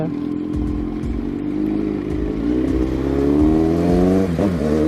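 A motorcycle pushes through dense traffic, its engine droning and rising in pitch as it speeds up, with other vehicles rumbling close by and no talking.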